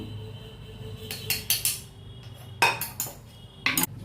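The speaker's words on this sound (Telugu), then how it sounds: "నాకు ఇట్లా ఏ పచ్చడైనా రోట్లో వేస్తాను దంచితేనే ఇష్టం" Okra chutney is pounded in a stone mortar, village style, with irregular sharp knocks and clattering hits in small clusters separated by short pauses.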